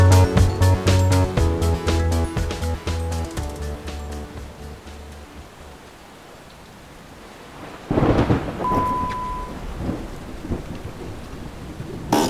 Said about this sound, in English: As the rain was pushing from the Gulf into the heart of Florida, I was cruising.